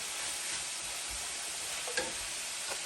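Onion, peppers and garlic fry in a pan for a cottage pie, a faint steady sizzle with a couple of quiet stirring scrapes near the end.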